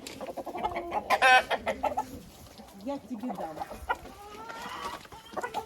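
Hens clucking and squawking nearby, several laying hens calling over one another as they hide from roosters on their perches, while a person speaks briefly amid the flock.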